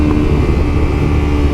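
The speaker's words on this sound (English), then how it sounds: "I think my exhaust is like finally breaking in from the previous owner that had put it on, because it is like violent" A car with a loud aftermarket exhaust that has finally broken in, droning with a deep, continuous low rumble close by for the whole moment, no voices over it.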